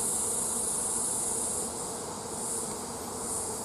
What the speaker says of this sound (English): There are a few bees there.